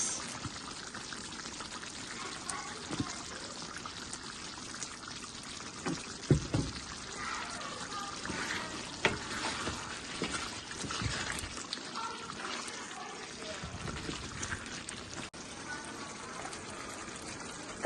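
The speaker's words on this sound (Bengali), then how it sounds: "এখানে দিয়ে দিচ্ছি হচ্ছে দু টেবিল চামচ টমেটো সস" Two tablespoons of tomato sauce going into chicken biryani as it cooks, a soft liquid pouring and trickling sound with occasional light clinks, fairly close.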